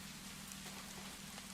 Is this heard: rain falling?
yes